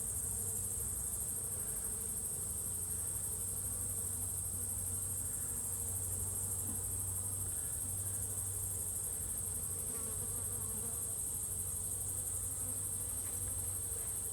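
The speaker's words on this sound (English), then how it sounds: "I know there's a bunch of bees right there." Honeybees from an August swarm drone steadily at a hive box beside its divider board, a dense, continuous buzz that holds level throughout with a low hum underneath and no one talking.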